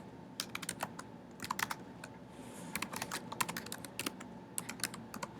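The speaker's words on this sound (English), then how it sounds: "type it in." Quick bursts of keystrokes on a computer keyboard, close and crisp, come in uneven clusters with short pauses between them, over a faint quiet room.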